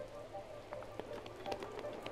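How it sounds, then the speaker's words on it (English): Rain falls steadily outside, a soft continuous patter with scattered louder drips, faint and fairly distant. "It's raining"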